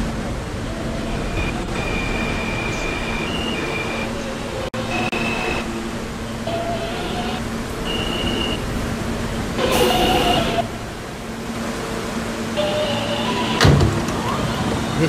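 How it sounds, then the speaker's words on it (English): A New York R160 subway train running on the A line, with a loud steady rumble and rising and falling electric whines from the motors filling the car. "This is a Brooklyn-bound A train"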